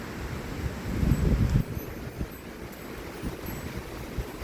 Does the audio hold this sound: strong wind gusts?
yes